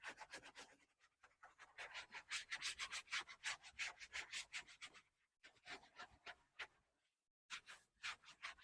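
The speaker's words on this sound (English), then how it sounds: "Now we're going to rub this out" An eraser scrubs out a drawing in quick, close rubbing strokes. Bursts of rapid back-and-forth scratching are broken by short pauses, and nobody talks.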